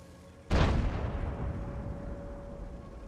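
A single loud, close tank cannon shot from an Obj 705 in a tank video game, a sudden heavy boom that rolls off into a long fading rumble.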